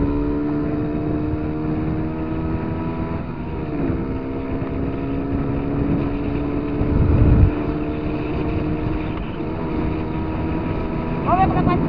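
A motorcycle with a loose exhaust drones steadily up close, its engine tone rising and falling with throttle changes and a rattly, buzzing edge, while wind noise buffets the microphone.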